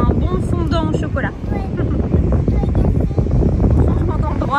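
Strong wind blowing across an outdoor location, buffeting the microphone in loud, rumbling gusts while people talk over it.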